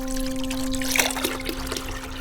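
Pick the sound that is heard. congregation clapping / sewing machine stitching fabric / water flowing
water flowing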